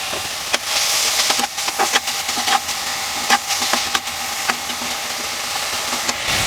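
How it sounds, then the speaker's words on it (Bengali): Bottle gourd leaves frying in mustard oil, a busy crackling sizzle with frequent clattering stirs and scrapes against the pan, close and fairly loud. "তাই আমি একটু সরিষার তেল দিয়ে এটাকে ভালোভাবে ভেজে নিচ্ছি"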